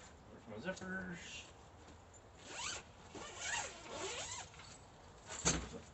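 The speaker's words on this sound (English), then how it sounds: "Zippers." A zipper on an Amazon Elite Field dog kennel is pulled in several quick runs, rasping close by with brief pauses between pulls, and a person speaks intermittently over the sound.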